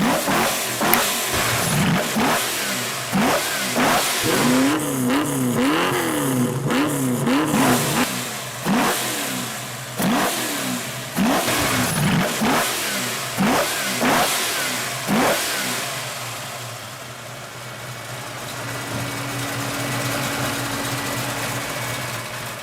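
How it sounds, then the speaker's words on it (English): A big car engine with multiple Weber carburetors, in a Factory Five Daytona build, revs hard in repeated sharp bursts, throttle blipping up and down before settling into a lumpy, burbling idle. "shows and gives you the sounds of what big Webers and lots of them sound like"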